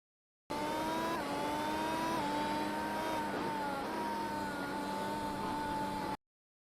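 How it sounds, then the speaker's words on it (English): A race car engine in iRacing at Circuit Gilles Villeneuve screams at full throttle, high sustained revs, pitch holding nearly steady with small dips and climbs, loud and continuous throughout. "if you listen to the engine revs, it's like pinned"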